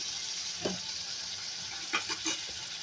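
Beetroot pieces frying slowly in a pan on a low to medium flame for chutney, a faint steady sizzle with a few soft scrapes of a stirring spoon, close by, no talking.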